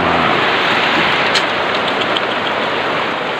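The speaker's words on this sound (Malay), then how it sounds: "hujan lagi kan." Heavy rain falls steadily in a forest under overcast skies, a dense continuous hiss of drops close by with no talk.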